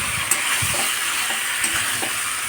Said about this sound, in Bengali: এবার মশলাটার সাথে এঁচোড়টা সুন্দরভাবে কষিয়ে নেব